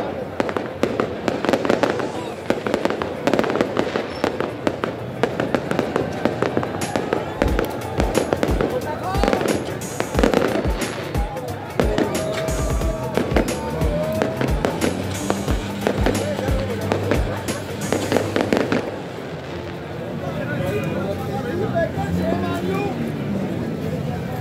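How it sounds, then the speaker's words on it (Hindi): New Year fireworks in Islamabad: dense, continuous crackling and popping bursts with deep booms, loud and close, over a busy crowd with people talking and shouting throughout. "आप देख सकते हैं फायर वर्क हो रहा है"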